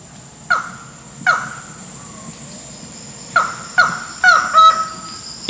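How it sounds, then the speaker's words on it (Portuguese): A rare Amazonian falcon perched on a dry branch in the Serra do Cachimbo, giving loud, harsh cawing calls: single cries spaced a second or more apart, then a quicker burst of several near the end, clear with no talk. "o raríssimo falcão amazônico cantando"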